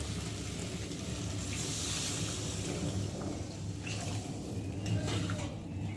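Water poured into a pan of sizzling spice paste and vegetables for a Bengali phasa fish jhal, producing a steady, loud, close hiss that holds for the whole stretch with no talking.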